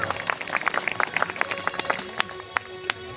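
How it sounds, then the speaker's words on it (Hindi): Audience at a Bhagwat Katha recital in Kosmi village clapping in a quick, uneven patter of many hands, moderately close and fading slightly toward the end. "ताली बजा दो"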